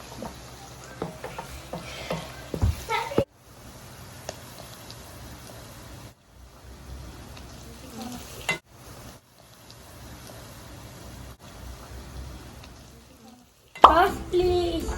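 Spaghetti sauce being stirred in a pan on the stove, a soft scraping and sizzling texture broken by pauses, with someone talking nearby at the start and end.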